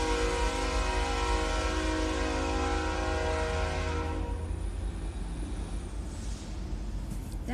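A BNSF mixed freight train led by an SD70MAC passes loud and close, with a sustained rumble of rolling cars and a long horn blast sounding over it, the horn tone fading toward the end.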